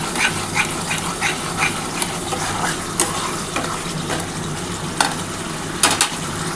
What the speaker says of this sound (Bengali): দেখো সামান্য মশলার জলটা দিয়ে একটু কষাচ্ছি।